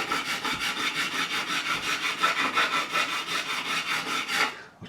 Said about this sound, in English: we're recrowning those frets with this one file